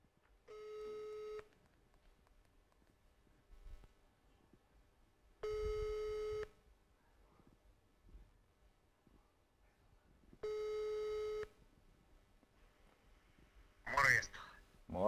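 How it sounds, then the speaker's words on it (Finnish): A telephone ringback tone while calling someone, three evenly spaced, clear tonal beeps about five seconds apart, followed by a brief voice at the end. "Nyt sitten juontaja pyytää, että Jukka on kiltti ja vastaa puhelimeen"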